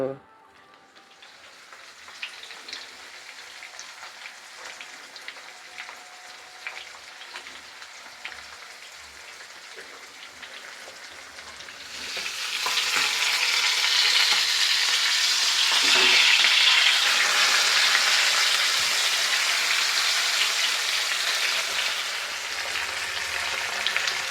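Fish roe frying in a pan makes a faint crackle at first. About halfway through, a much louder, dense sizzle like heavy rain swells up and holds steady until the end.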